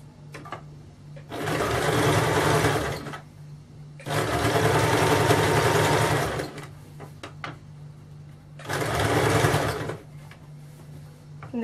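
A sewing machine stitches the neck edge of a kameez in three long runs of steady whirring, each a couple of seconds, separated by short pauses with faint handling noises.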